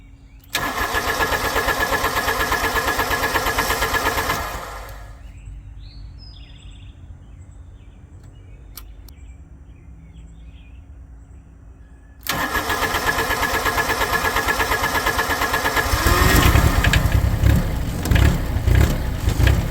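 A Wacker Neuson 803 / Cat 300.9 mini excavator engine cold-starts at 64 degrees, cranking and roaring to life loudly, dropping to a quieter idle, then revving back up to a steady, louder running drone.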